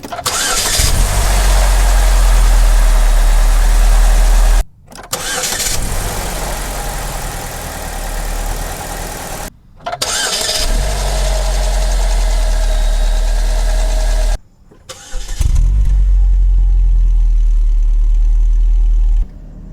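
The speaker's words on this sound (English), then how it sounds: "So, we synchronize all of them by turning on the engine." A 2007 Saturn Ion's engine cranks and fires several times in a row, each start settling into a loud, steady mid-pitched idle before cutting off, recorded up close.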